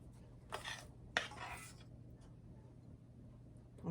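A spoon scrapes and dollops gingerbread batter onto a banana bread loaf: two brief, soft scraping strokes near the start, then near silence under a low hum.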